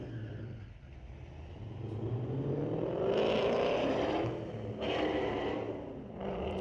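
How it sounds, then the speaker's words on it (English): A Tesla and a 2015 Dodge Challenger drag racing at a street-legal night at Mission Raceway, with a loud sustained engine roar that swells and surges in bursts as the cars launch and pull away. "a little Tesla racing a 2015 Challenger"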